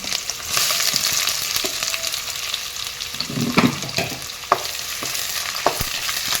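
Spice paste frying in hot oil for a chicken curry with carrot, a steady sizzle with scraping stirs and a few sharp clinks of the spoon against the pan, close and clear with no talking.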